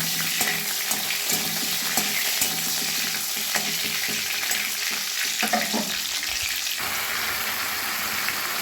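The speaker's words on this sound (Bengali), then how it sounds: "এবার আমি টমেটোটা দিয়ে দিলাম।" Tomato sizzles and fries in mustard oil in a wok, with a steady crackling hiss and occasional stirring scrapes, close and continuous.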